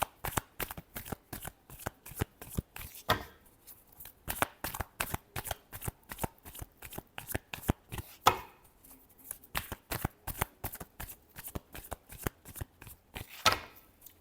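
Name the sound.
shuffling tarot cards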